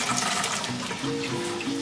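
Water from cooked beans pours off steadily, a continuous close splashing gush that runs without a break for the whole moment, with no talking.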